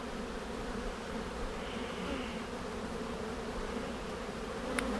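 Honeybees buzz around an open comb honey hive on a warm day, a steady low drone of many insects with one brief tick near the end.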